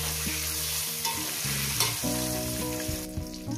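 Eggs frying in oil in a pan, being prepared for a Bengali cauliflower-potato egg posto dish, give a steady close sizzle with stirring clatter and scraping throughout, and no voices are heard.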